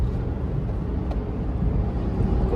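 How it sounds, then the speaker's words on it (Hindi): A well-worn Maruti Wagon R with about 200,000 km on it cruises in 4th gear above 80 km/h, its engine giving a steady, even drone mixed with road and wind rumble inside the cabin. "अब इसकी इंजन की नॉइज सुनो आप, 4th गियर पर गाड़ी है, 80 के ऊपर है।"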